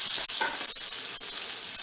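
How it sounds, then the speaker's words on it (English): A meatball sizzles on a hot grill with continuous close crackling and hissing, a slightly louder burst at the start easing into an even fry, no voices. "You'll hear it sizzle."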